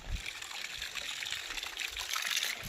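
Water trickling at low pressure from a borewell pipe, a steady thin hiss and splash running continuously and close.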